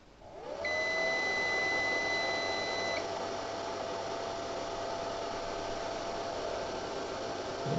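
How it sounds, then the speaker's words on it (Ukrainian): A PowMR hybrid inverter's cooling fan starts up at its first power-on. A steady broadband whoosh rises quickly and holds at a low, even speed, with two thin tones over the first few seconds. "Вентилятор працює."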